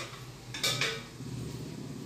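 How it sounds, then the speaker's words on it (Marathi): A lid set down on a pan of mixed hyacinth beans, eggplant and potato cooking over a low gas flame, giving a couple of short metallic clinks close by against a quiet kitchen hum. "परत आपण 5 मिनिटं झाकण ठेवूया."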